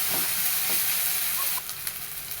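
Aubergine and potato sautéing in a pan with ginger-garlic paste, a steady close sizzle with a few soft stirring scrapes, the frying hiss dropping slightly partway through.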